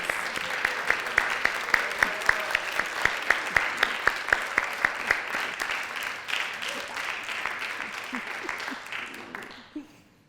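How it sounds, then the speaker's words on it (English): Congregation applauding at a sacred service, a steady broadband clatter of many hands with a few sharper distinct claps punctuating it, sustained and fairly close before thinning out and fading near the end. "we give them one more round of applause, please?"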